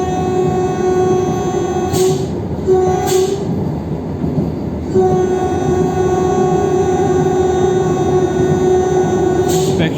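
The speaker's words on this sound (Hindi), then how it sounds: "ज्ञानपुर रोड को स्किप करते हुए बेहतरीन एक्सेलरेशन वंदे भारत" Vande Bharat express train accelerating past Gyanpur Road, a steady loud rumble of wheels on rail with a sustained tonal hum, broken by brief hissing bursts around two, three and near ten seconds.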